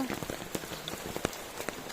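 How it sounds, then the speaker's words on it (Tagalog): Heavy rain pours down in Siargao: a dense, steady hiss of water on surfaces, broken by scattered sharper drops and splashes, loud and continuous with no voices. "ang lakas ng ulan dito"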